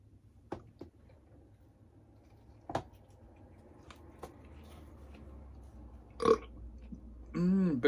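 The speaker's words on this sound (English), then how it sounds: "Big burps." Loud, deep burps during a pizza mukbang, two or three of them standing out near the end over quiet background, with small clicks and mouth noises earlier.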